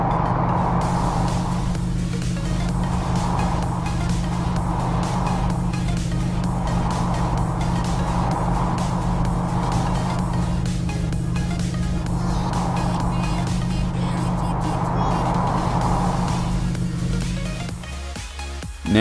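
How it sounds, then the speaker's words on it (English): Traffic cars in the Car Parking Multiplayer video game drone steadily in the background, a continuous engine hum with repeated swelling passes, loud and alone, with no talk. "there are traffic cars in the background"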